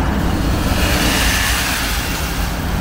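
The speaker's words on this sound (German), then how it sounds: "hier haben wir halt nur eine Straße mit Autos" Cars pass along a street in Casablanca, a continuous dense wash of traffic and engine noise with no break.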